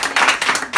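A church congregation claps briefly, a dense burst of many hands that rises and dips over under a second, loud and close.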